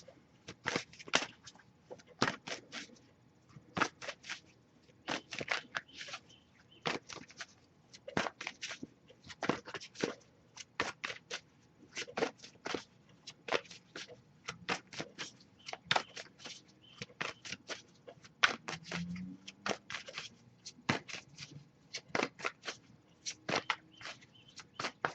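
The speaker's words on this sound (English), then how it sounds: "I'll give it a few more shuffles" Tarot cards being shuffled by hand, a series of sharp, crisp riffling bursts repeating at an uneven rhythm, close and fairly quiet against a near-silent background.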